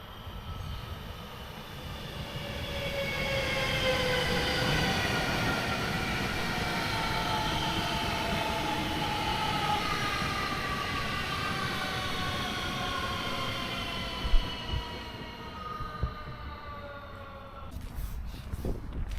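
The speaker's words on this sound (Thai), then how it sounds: "ตอนนี้กำลังมีรถไฟนะคะผ่านมา" A train rumbles past steadily for a long stretch, with a broad roar and faint wheel squeals, then trails off with a few clanks near the end.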